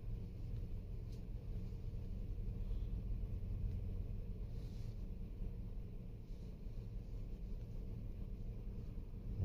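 A 2014 Nissan NV200 van with a hot crank-no-start fault idles while warming up, a low steady rumble with a faint hum, continuous and even, with no one talking.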